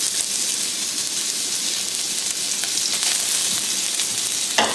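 Ginger and garlic sizzle hard in about three tablespoons of hot cooking oil in a wok, making a loud, continuous crackling hiss with some splatter. A brief sharp clatter comes near the end, and nobody speaks.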